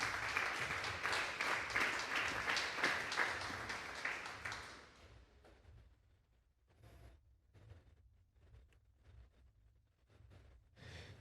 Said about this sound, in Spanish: Denle un fuerte aplauso al Señor esta tarde